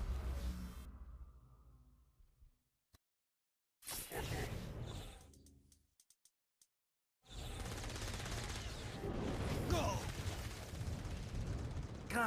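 Gunfire and explosive blasts from the video game Saints Row: Gat out of Hell, loud and dense in two long bursts separated by a quiet gap with a few isolated shots.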